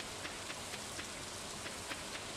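Stardew Valley rain falling as a steady, dense hiss, soft and even, with faint regular ticks of drops running through it.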